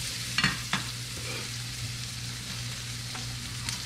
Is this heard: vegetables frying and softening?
yes